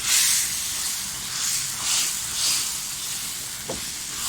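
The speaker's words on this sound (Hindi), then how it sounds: "इस तरह इसको थोड़ा सा भून लें, नीचे ना लग जाए" Haleem masala fries in a pot, giving a steady close sizzling hiss that swells and eases in soft waves, with a brief clink near the end and no talking.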